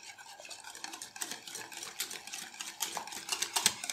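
Chocolate cake batter with oil and butter being stirred in a bowl, soft wet swishing and scraping strokes in an uneven rhythm, close and fairly quiet, no talking.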